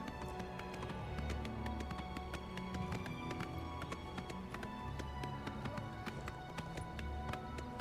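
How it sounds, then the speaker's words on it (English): Quick, regular hoofbeats of a galloping horse in the video game Oblivion, a rapid clattering rhythm that continues steadily throughout at moderate volume. "Run, horsey, run."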